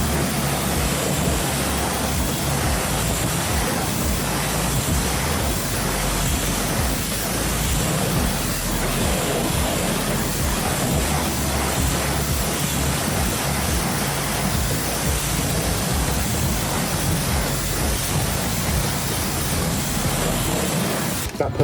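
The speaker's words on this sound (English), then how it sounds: "let's get this wheel rinsed and tyre rinsed" A strong water spray rinses a Volkswagen Transporter wheel and tyre, a loud, steady hissing rush that continues without a break.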